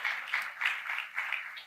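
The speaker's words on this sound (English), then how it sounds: "That's a round of applause" An audience at a fireside chat forum applauds, a soft distant patter of many hands clapping in small swells, fairly quiet and steady for a brief moment.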